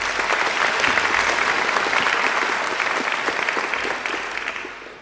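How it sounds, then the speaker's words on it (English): A graduation ceremony audience at Macquarie University gives a sustained round of applause for a speaker, dense and loud clapping that gradually fades near the end. "I think Paul deserves another great round of applause."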